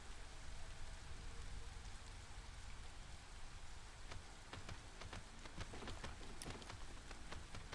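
Drizzling rain in the video game Against the Storm makes a steady soft patter, a constant hiss of drops with scattered sharper plinks growing denser toward the end, with no voices.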